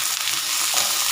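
Red curry paste frying in melted oil in a pan, a brief, close, dense sizzle with soft scraping of a stirring spatula.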